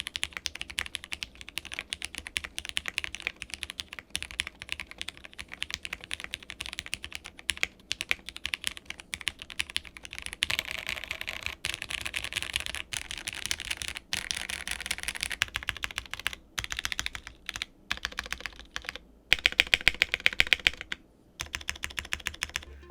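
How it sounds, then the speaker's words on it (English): Steady, crisp keystrokes clack on a Zoom TKL mechanical keyboard with a carbon fiber plate, typed at a brisk, even pace close up with occasional louder spacebar thuds and brief pauses. "It brought out a bit more clack and it felt great to type on."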